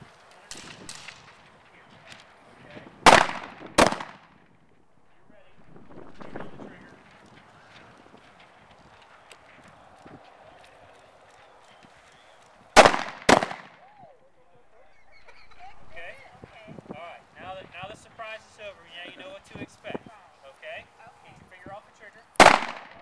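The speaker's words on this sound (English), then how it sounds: "Go ahead, shoot some more. There's 10 rounds in that magazine." Pistol shots crack at a sheriff's office shooting range during a media day, sharp loud reports coming in pairs and clusters with gaps between, wind noise and people talking in the pauses.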